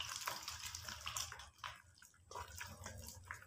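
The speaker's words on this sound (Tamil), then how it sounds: "நான் கொஞ்சம் தண்ணி ஊற்றுறேன்" Water is poured into wheat flour dough while kneading, a quiet continuous trickle and splash with a low background hum, no one talking.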